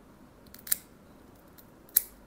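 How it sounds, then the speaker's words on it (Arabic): Scissors clip a cat's nails close up in a quiet room: two sharp, crisp snips about a second apart over faint background hiss. "عايزين نقص ضوافرك."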